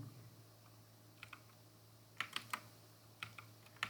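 JavaScript code typed on a computer keyboard, with faint, close keystrokes in short scattered bursts over a quiet room and no talking.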